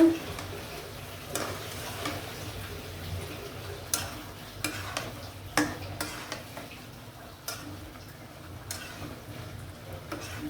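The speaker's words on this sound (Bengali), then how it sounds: "মাছটা কষে দেখি আমার মাছের কি অবস্থা" Shol fish with pumpkin sautéing in spices in a pan, a steady soft sizzle broken by repeated scraping stirs of a spatula, close and moderately quiet, with no talking.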